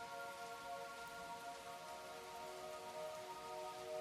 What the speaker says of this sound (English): But there's also the soft drumming of the rain on the roof.